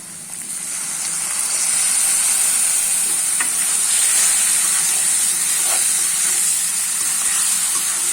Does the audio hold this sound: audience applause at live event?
no